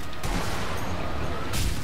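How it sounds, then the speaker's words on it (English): Dense, continuous gunfire from Russian soldiers in the video game Sniper Elite V2, loud and sustained as a steady barrage of shots with no talking. "Hopefully the Russians will stop shooting at me"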